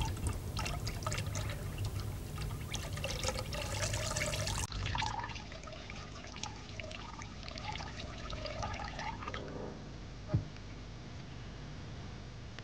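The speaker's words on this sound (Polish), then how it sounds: "Ruch fal morskich w laboratoryjnej skali." Sea waves made at laboratory scale in a water tank, a continuous sloshing, washing rush of moving water that eases a little partway through, with a faint splash near the end and no voices.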